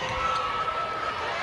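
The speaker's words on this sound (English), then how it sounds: "They are very vocal, considering there's a few empty seats in the crowd, but it sounds like it's totally full." Malawi netball supporters in a partly empty stadium raise a steady, loud wall of crowd noise, a continuous roar of cheering and chanting with no clear breaks.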